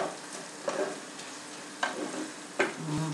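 Onions fry in a pan while being stirred, a soft continuous sizzle broken by three scraping stirs and a brief clunk at the end.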